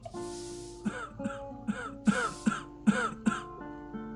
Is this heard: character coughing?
yes